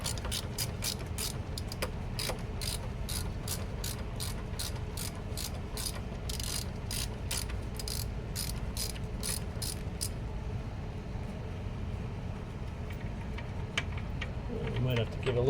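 Hand ratchet removing a bolt on a Volvo outdrive, a steady series of crisp close clicks for about ten seconds, then quiet with low background rumble and speech.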